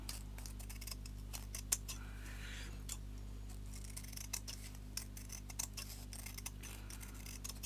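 Scissors cutting felt for handmade bluebell flowers, a steady series of quick close snips over a constant low electrical hum, with no talking.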